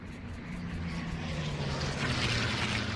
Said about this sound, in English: There were 2 planes.